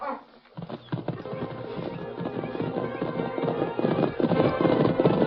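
In an old-time western radio drama, galloping horse hooves pound in a fast, rolling rhythm that grows slightly louder, with a thin, band-limited broadcast quality.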